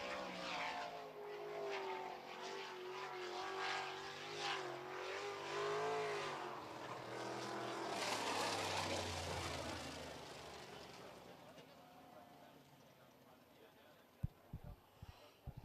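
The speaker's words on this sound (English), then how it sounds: "Next car to push off and is on the back straightaway now." A sprint car engine roars down the back straightaway during time trials at Red River Co-op Speedway, a loud sustained rasp that swells past, then fades into the distance, followed by a few sharp clicks near the end.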